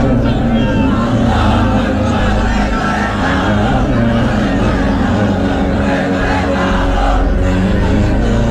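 A large crowd at a Bangladeshi Islamic religious gathering chants together in a loud, continuous roar of massed voices that fills the whole stretch without pause.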